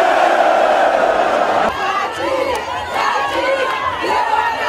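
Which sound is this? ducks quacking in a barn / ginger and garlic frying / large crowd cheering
large crowd cheering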